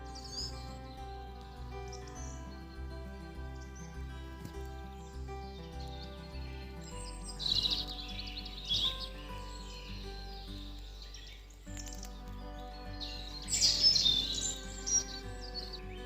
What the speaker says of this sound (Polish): nad głową przywitał mnie rudzik